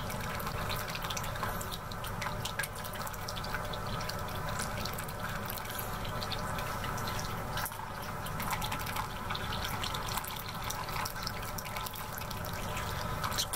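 Liquid carrying madder root pigment drains steadily into a vessel, an unbroken trickling, splashing flow close by that holds an even level throughout with no talk.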